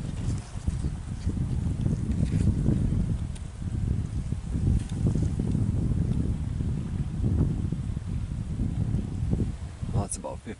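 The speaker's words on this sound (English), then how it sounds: "that wind is coming in pretty good, but down here with these cattails and everything, it's almost like a wall protecting me from the wind" Wind gusting through tall marsh cattails on an overcast morning during a Minnesota duck hunt gives a steady, full rushing roar throughout, with brief rustles near the end.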